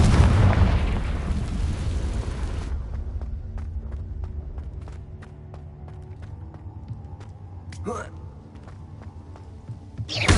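A Confringo blasting spell erupts in a Harry Potter video game with a loud, dense explosive burst for the first few seconds, then decays into quieter game ambience with scattered clicks.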